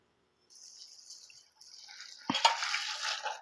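Water is poured into a pot of rice for ghee rice, a soft trickling at first, then a louder, fuller splashing pour toward the end, heard close with no talking.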